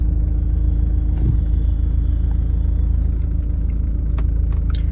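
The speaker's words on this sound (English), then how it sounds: "you can hear the engine beneath my voice" A steady, close car engine idles with a continuous low rumble, unchanging throughout.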